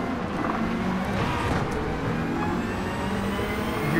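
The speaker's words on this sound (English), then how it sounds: "Hear those turbos kicking." Turbocharged car engine in Gran Turismo 7, played in VR, a steady, loud, continuous roar with whirring turbo tones under it, near and unbroken throughout.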